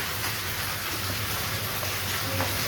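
Rain falls steadily, a constant even patter and hiss with no breaks or voices, moderately loud throughout.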